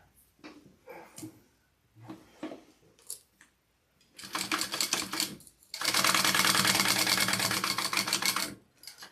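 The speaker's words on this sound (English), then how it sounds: "we are going to sew along this seam here" A sewing machine sews along a seam of a Mini Scout project, running in two close, rapid whirring bursts, the second longer and louder, after some quiet handling sounds.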